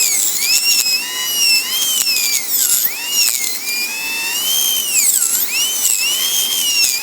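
A dental drill bur grinds a tooth during a metal-free crown preparation, a loud continuous high-pitched whine that rises and dips in pitch as the load changes.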